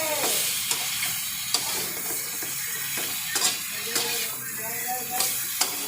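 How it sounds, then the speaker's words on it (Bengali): Ginger paste and ground coriander being stir-fried in a pan, with a steady broadband sizzle and repeated sharp scrapes of a spatula against the pan, close by and fairly loud throughout. "আদা বাটা দিয়ে ভালো করে কষাবো।"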